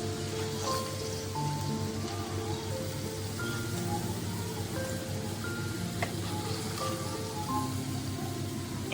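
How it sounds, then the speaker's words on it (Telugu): Prawns frying in oil for a homemade prawn pickle, a steady dense sizzle and crackle running throughout at moderate level, with faint tonal kitchen sounds and no talk. "ఆయిల్లో ఫ్రై అయ్యేసరికి చిన్నగా అయిపోయినాయి ప్రాన్స్."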